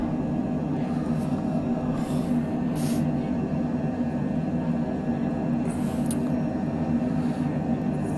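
A jet aircraft engine in a flight simulator game gives a steady, droning roar with a broad rumbling hum that runs unbroken and fairly loud, with a few faint hissy bursts.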